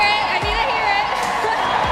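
A large crowd at a men's singles tennis final cheers and roars continuously, loud and dense, with whoops rising above the steady wall of noise.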